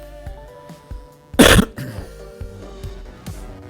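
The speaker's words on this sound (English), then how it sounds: "Sorry for coughing in y'all's ears." A single loud cough bursts out mid-stream over quiet video game music with a steady beat, brief and close to the microphone.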